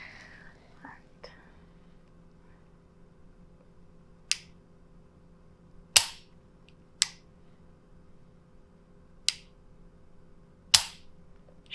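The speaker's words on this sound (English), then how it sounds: "Now I want you to shoot 10 cards in half." Five sharp, fairly faint gunshots crack out at irregular intervals on a shooting range as playing cards are shot in half, with low whispering voices and a quiet background hum between the shots.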